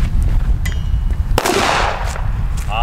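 A small Pyrotrade Vipper 1 firecracker goes off outdoors with a single sharp, loud bang midway, preceded and followed by low background rumble.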